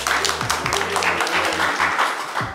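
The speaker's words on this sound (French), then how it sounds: "On peut l'applaudir très, très fort" A studio audience applauds as a caller steps onto the stage of a live Ivorian midday show, a brisk wash of clapping throughout with a low music bed and a voice beneath.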